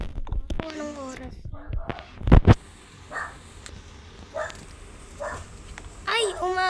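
A dog barks in short bursts during the morning, yips and a whimper scattered among them, with a louder cluster partway through; voices talk over much of it, including a child's.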